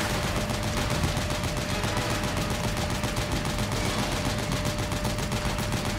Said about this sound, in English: Literally every one of these shots is doing something to destroy it